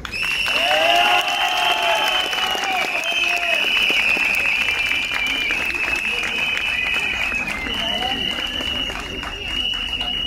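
At a 2024 graduation send-off at Vasil Levski vocational high school in Yambol, a crowd applauds the class teacher with sustained clapping and some cheering, mixed with voices and a high, steady tone throughout.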